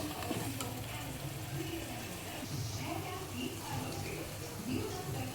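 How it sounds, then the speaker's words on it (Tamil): Washed chicken pieces are lightly stir-fried in a pan, giving a soft, continuous sizzle with faint scraping, while a voice talks quietly underneath. "சிக்கனை போட்டு கொஞ்சம் லைட்டாக இது பண்ணால் போதும், பரட்டினா போதும்."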